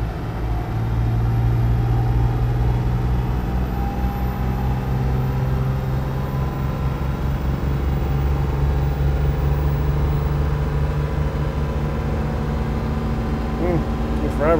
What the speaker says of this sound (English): The truck's getting quieter and quieter at full power.